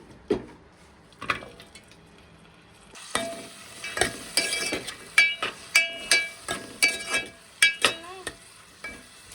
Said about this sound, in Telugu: 2 tablespoon నెయ్యి వేసుకోవాలి. డ్రై ఫ్రూట్స్ ఫ్రై చేసేసుకోవాలి.